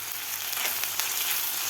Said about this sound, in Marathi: आलं आणि लसूण व्यवस्थित परतून झालेलं आहे.